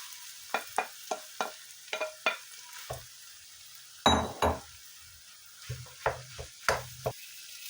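Minced meat and onions fry in a pan while a utensil stirs and scrapes, giving a string of sharp, close clinks and scrapes in an uneven rhythm over a soft, steady sizzle.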